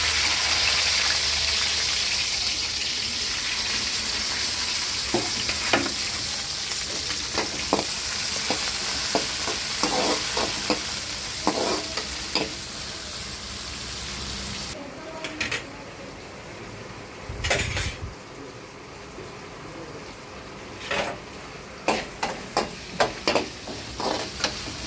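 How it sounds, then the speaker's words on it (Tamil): Onions frying in hot oil with cinnamon and whole spices for a mutton curry, a steady close sizzle with scattered scraping stir strokes that grow sharper and more spaced in the second half, no talking. "இப்போ வந்து கட் பண்ணி வச்சுக்கிற வெங்காயத்தை சேர்த்துக்கலாம்."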